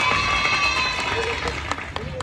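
A theme-park holiday crowd claps and cheers for a contestant, a dense steady wash of applause with scattered whoops, while a host's voice carries over it.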